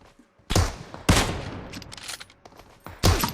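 Gunfire in PUBG Mobile, several loud close bursts of automatic fire in quick volleys with short quiet gaps, no talk.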